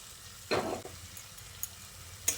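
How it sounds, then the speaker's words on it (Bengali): Fried pointed gourd pieces go into a pan of spice paste that is already releasing oil, giving a brief burst of sizzling and frying followed by quieter crackles and faint stirring, with no talking. "এবার আমি ওই যে ভেজে রাখা পটলটা রেখে দিয়েছিলাম তুলে সেটা দিয়ে দিলাম।"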